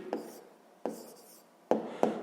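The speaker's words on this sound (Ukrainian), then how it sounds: "записуємо відповідь" A pen writing out a sixth-grade math answer on paper: four short, crisp scratching bursts, each fading quickly, with quiet gaps between and no voices.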